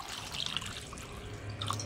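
Water pours and splashes into a pot of cooked lentils and mixed vegetables, making a steady close trickle with small drips for a couple of seconds.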